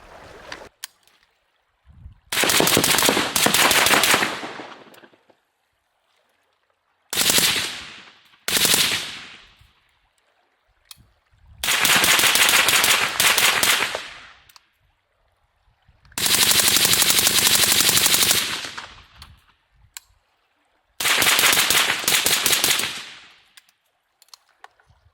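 An anti-aircraft gun fires in five loud, sharp bursts of rapid shots, each lasting one to three seconds and separated by silent pauses, close by.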